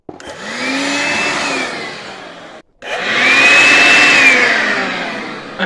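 A vacuum cleaner runs loud and close in two long bursts split by a brief cutoff, its steady whine rising in pitch as it sucks Asian beetles off a window area where they were swarming.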